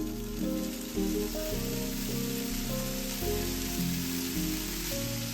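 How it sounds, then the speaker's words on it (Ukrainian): Bacon brisket fries in a dry pan with no oil, giving a steady, rain-like sizzle that runs continuously under louder background music. "Обсмажуємо грудинку до хрусткої скоринки без додавання олії."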